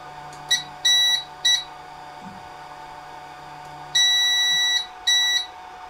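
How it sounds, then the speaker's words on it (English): A Phrozen Sonic Mini 4K resin 3D printer's electronic beeper sounds in short, sharp high-pitched beeps: a few quick bleeps early on, then two longer beeps near the end, over a faint steady fan hum with no talk. "that's the beeper when it turns on, turns off, or other indications"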